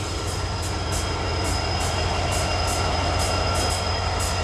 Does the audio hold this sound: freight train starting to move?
yes